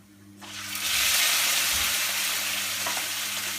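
Prawns sizzle loudly in a hot pan while pad thai cooks, a steady close frying hiss that surges up after a quiet start and stays strong, with faint clinks of stirring.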